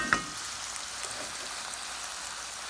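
Tofu sizzles steadily while frying in a Le Creuset balti dish, a continuous close hiss with one brief clink near the start and no talking.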